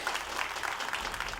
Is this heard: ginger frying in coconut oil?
no